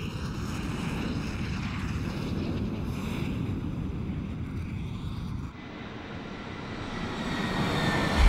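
Continuous roaring rush of jet aircraft engines in the Ace Combat 6 flight video game, a broad steady wash that dips and then swells again toward the end, with no talk.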